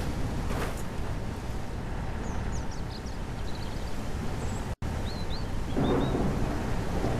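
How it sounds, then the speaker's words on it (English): A thunderstorm in the survival video game Mist Survival brings steady rain with low rolling thunder, while thin bird chirps ring out above the downpour. "basically it is storm"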